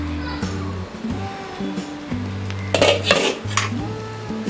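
A metal lid lifted off a pot of potato pulao on the stove clanks against the rim, then rattles in a few sharp metallic knocks as it is set aside.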